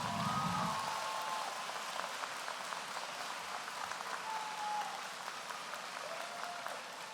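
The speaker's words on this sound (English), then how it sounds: "Let's give them a big round of applause." Graduation audience applauding for Fort Pierce Westwood Academy faculty and staff, a steady wash of distant clapping from a large hall crowd that holds at an even level throughout.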